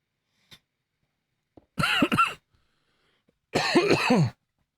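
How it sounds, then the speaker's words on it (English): Two harsh, raspy coughing fits close to the microphone, separated by a short silence, with faint clicks in between. "To stop me coughing down the microphone at you lot."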